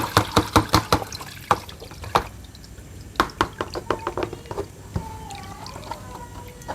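Soaking water is drained from softened crackers, with a run of splashy drips and small knocks from a container, close and irregular, then faint trickling; a voice speaks briefly.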